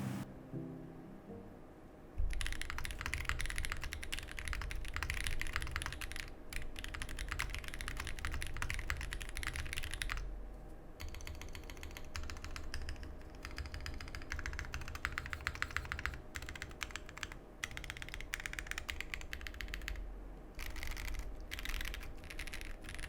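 Typing on a custom-built mechanical keyboard, close and steady, with rapid, dense keystroke clatter running continuously after a short quiet lead-in, briefly pausing midway before resuming, with no talking.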